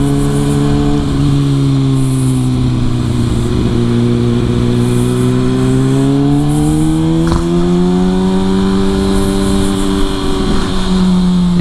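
Kawasaki Ninja ZX6R sport motorcycle on a test ride, its engine droning steadily with pitch rising and falling through gear changes, close and loud over constant wind rush, with no talking.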